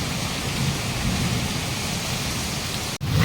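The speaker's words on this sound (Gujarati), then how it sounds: "કેટલો વરસાદ આવે જો" Heavy monsoon rain pours down steadily in a flooding neighbourhood, a dense close hiss of drops hitting surfaces, with a brief dip near the end, no talk.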